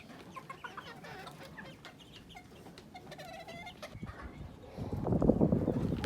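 Laying hens cluck and murmur in a farm coop, a mix of soft calls from several birds with a louder burst of rustling and activity near the end.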